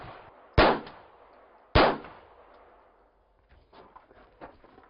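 Two sharp handgun shots crack out about a second apart during an active shooter training drill. Each is loud and close with a short ringing decay, followed by quieter shuffling and handling noises.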